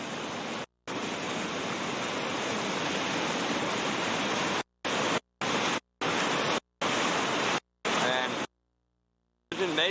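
Roaring rush of river rapids pouring over a big drop during a rafting run, a loud continuous wash of whitewater broken by several abrupt cuts to silence near the end.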